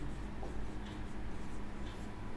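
Chalk or marker scratches across a classroom board during a maths lesson in faint, continuous strokes, with short pauses between marks.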